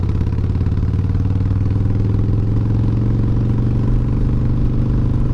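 A motorcycle engine drones steadily while riding on a Virginia road, a loud, even, rumbling hum with faint clatter and no talking.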